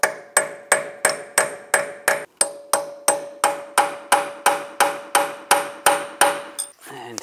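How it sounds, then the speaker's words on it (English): A steady run of about seventeen hard punch-and-hammer strikes on the peened axle nut of a 2004-2010 BMW X3, each a close, sharp metallic crack with a tonal ring, evenly paced with one brief pause. "I'm just going to use a punch and a hammer and just try to pry those over"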